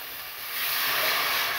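Water comes to a boil in a pan with a steady, close hiss that swells halfway through.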